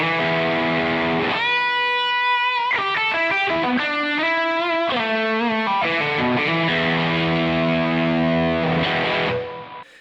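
Electric guitar played through a Plume overdrive pedal stacked into a Tube Screamer, giving heavily distorted, bright chords and short riff phrases that ring loudly and continuously before cutting off at the end.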